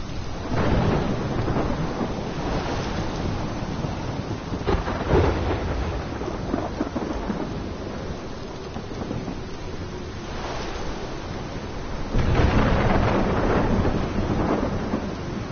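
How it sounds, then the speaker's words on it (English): A violent thunderstorm rages in the game Life is Strange, heavy rain hissing constantly while rolling thunder booms swell and fade several times, loud and close, with no voices. "This is my storm. I caused this."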